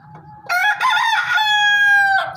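Rooster crowing once in a long, loud, harmonic call lasting about two seconds, close by in a poultry yard with other roosters present, faint low background rumble before it.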